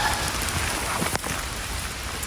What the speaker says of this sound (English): Rain like this is the perfect time to check for drainage issues.